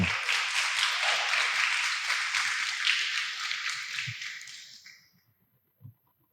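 Applause from a church congregation for a woman named Marilza, a broad steady burst of clapping that fades out over about five seconds, followed by a single faint clap.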